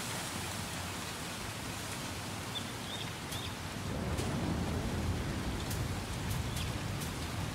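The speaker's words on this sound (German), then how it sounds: "heute ist Regenwetter" Steady rain in the farming life-sim game Coral Island, a dense continuous hiss that grows slightly heavier partway through, with a few faint high chirps above it and no talk.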